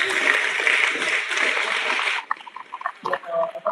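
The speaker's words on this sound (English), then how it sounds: "Can we give them a round of applause?" An audience at a scholars' day celebration applauds for the promoter team, a dense burst of clapping and cheering for about two seconds that cuts off into scattered, quieter sounds.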